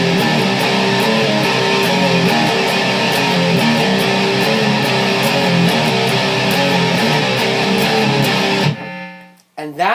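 Distorted electric guitar playing the repeating main riff of a song, loud and dense for about nine seconds before cutting off abruptly, with no talking.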